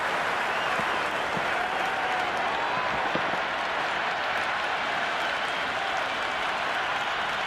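A Big Bash T20 cricket crowd at Sydney Sixers vs Adelaide Strikers applauds and cheers after a six, a continuous dense wash of clapping and roaring that holds steady throughout.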